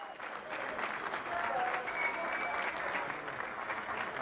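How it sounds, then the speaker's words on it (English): Foreign participants at the Paralympics give warm, sustained applause, with a dense wash of clapping throughout and faint voices underneath. "Their appeal drew applause from other foreign participants."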